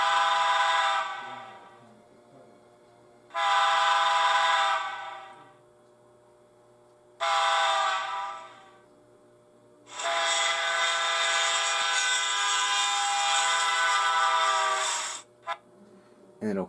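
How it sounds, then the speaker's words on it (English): Rapido M420 model locomotive sound system playing its Doppler horn effect: three short loud horn blasts followed by one long sustained blast, fairly close, with quiet gaps between. "Number 5 is the Doppler horn."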